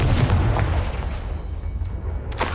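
Confringo fire spell explosions in the game Hogwarts Legacy, heavy booming blasts up front followed by a rumbling tail and another sharp burst near the end.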